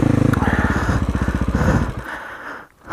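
Sherco 450 SCF Factory Cross Country dirt bike ridden on a motocross and enduro track, its single-cylinder engine pulsing loud and close in a rapid chugging beat before fading out.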